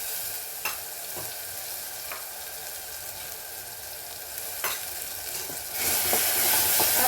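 Steady oil sizzle from a pan of frying ginger garlic paste, with occasional clinks and stirring scrapes, getting a little louder and hissier near the end.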